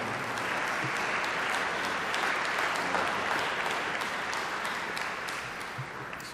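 A large crowd gives warm, sustained applause for the Imam of the Nation of Islam at an Eid al-Adha gathering, a thick, steady roar of many hands clapping that tapers slightly toward the end.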